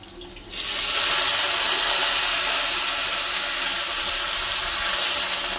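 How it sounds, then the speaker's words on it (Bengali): Water spinach (kalmi greens) frying in oil with onion, green chilli and garlic, a loud steady sizzle that starts abruptly and holds evenly for several seconds. "একটু কলমি শাক ভাজা করবো"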